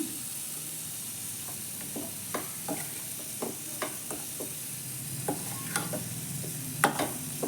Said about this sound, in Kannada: ಸ್ವಲ್ಪ ಕಾಯಿ ತುರಿ ಕೂಡ ನಾನು ಹಾಕ್ತಾ ಇದ್ದೀನಿ